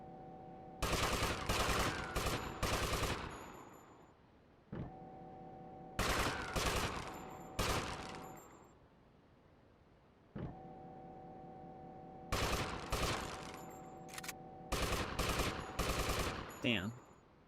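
Assault rifle fire in GTA: Vice City Stories rattles in several loud rapid bursts separated by pauses, over a steady tonal game hum.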